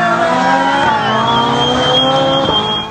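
Diesel car engine playing back from a video, a sustained droning hum with steady tonal whine, loud and alone for a few seconds.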